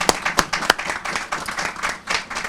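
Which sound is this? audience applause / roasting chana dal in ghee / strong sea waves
audience applause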